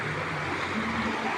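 Creek water flows steadily and close by while people wade across a stream swollen a little after light rain, a continuous rushing wash with no talk.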